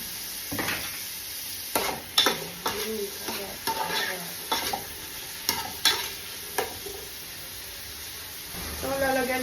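Carrots being stirred and fried in a pan while cooking pepper is about to be added, with a steady sizzle under scraping spatula strokes and several sharp stirring clacks, close up; a person talks intermittently over it.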